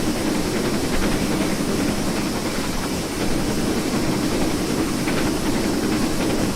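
A 1950s-era locomotive running on the Riviera Line in Train Simulator, with a steady close rumble of wheels and carriages, faint rhythmic clickety-clack and a constant hiss throughout, no voices.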